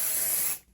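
A short, close burst of spray basting adhesive from an aerosol can, misted over fabric: a steady bright hiss for about half a second that cuts off quickly, with no talking.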